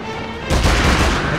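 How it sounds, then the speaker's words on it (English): A 9mm Ruger pistol firing in the King Kong video game, a loud sudden blast halfway through followed by a dense, sustained roar of gunfire and action noise. "9mm Ruger. Trigger's very sensitive."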